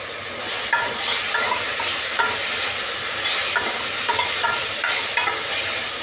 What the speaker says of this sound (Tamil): அதையும் சேர்த்து இதோடு வதக்கிடலாம்.